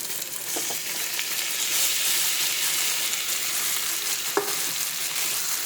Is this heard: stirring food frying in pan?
yes